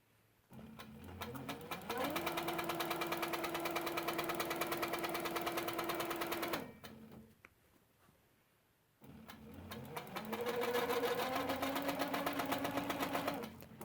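A sewing machine free-motion quilts a double arch border, running in two long steady bursts of rapid needle stitching that ramp up in speed, with a brief pause between them.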